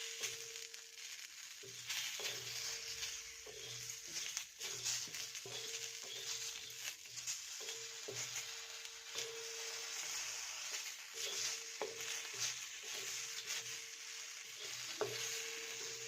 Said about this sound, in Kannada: ಎಲ್ಲ ಸೇರಿಸಿ ಹುರ್ಕೋಬೇಕ್ರಿ